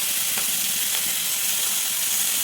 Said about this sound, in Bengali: আর সাথে নিয়ে নিচ্ছি লঙ্কা, এটাও একটু ভাজবো